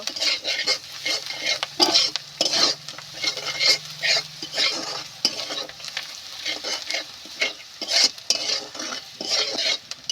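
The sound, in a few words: sautéing spice masala with salt, turmeric, chili in pan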